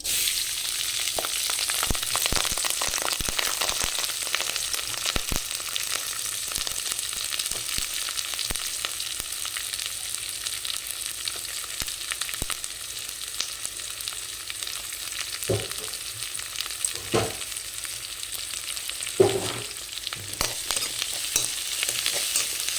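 Onion, green chili and curry leaves fry in hot oil in a pan for a banana-flower poriyal, a steady loud sizzle throughout with a few scraping stirs near the end and no talking.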